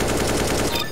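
Rapid automatic gunfire from a shooting video game, a loud continuous burst of shots lasting about a second.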